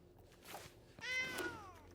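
A cat gives a couple of soft meows close by, the second longer and rising then falling, faint over a quiet room.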